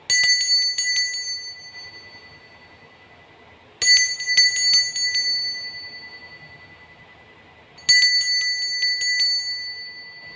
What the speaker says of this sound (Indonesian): Kita akan langsung saja memulai dengan ditandai lonceng berbunyi.